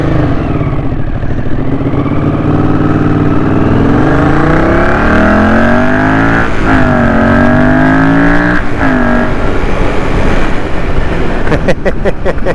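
A 1981 Honda CX500 shaft-drive motorcycle fitted with pod air filters revs loud and close, rising and falling through several swells and spitting through the exhaust, steady throughout with no voices over it.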